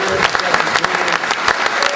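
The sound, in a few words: audience applause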